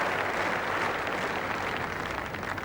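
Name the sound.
crowd applause at cricket Test match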